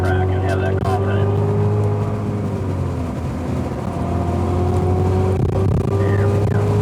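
A Cadillac CTS-V accelerates on the COTA race track, its engine droning loud and steady in the cabin with rising tone, while someone talks over it.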